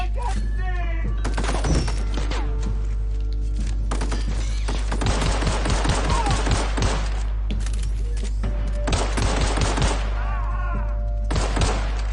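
Repeated shotgun blasts and gunfire from the video game The Outer Worlds, a dense run of loud, sharp bangs in bursts with thuds between, over a steady low hum and game effects, with someone talking at times.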